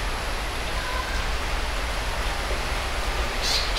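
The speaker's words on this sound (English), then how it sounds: "It's raining." Steady rain falls in the Philippines as a continuous, close hiss of water with no letup, fairly loud and unbroken throughout.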